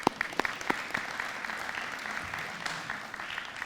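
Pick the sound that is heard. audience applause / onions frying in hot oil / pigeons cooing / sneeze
audience applause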